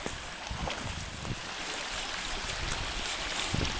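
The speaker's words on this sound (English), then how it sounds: "Can't hear a thing except a little bit of waves on the shore." Small waves wash gently on a beach shore on the Isle of Arran, a soft continuous hiss and rush with light wind buffeting the microphone and no voices.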